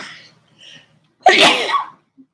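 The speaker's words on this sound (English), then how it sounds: "Sorry, I got to sneeze." A person sneezes once, loud and close, after a brief inhale and faint breathy sounds, in an otherwise quiet setting.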